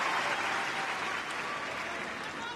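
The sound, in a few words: tennis crowd applauding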